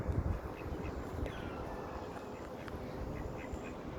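Ducks quacking on a park pond near a jetty in Holroyd Gardens, a few short, faint calls spaced out over a low outdoor rumble, heard from a little distance.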